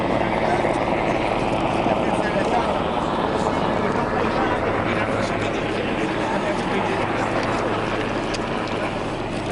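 A helicopter arriving overhead, a steady rotor roar and whooshing drone that stays loud and constant throughout, with talk mixed into the noise.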